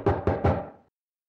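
Three quick, hard knocks on a door, loud and close, then silence.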